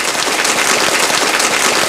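A short burst of applause played as a sound effect from a device, steady and fairly loud, a dense crackle of clapping lasting about two seconds with no voices.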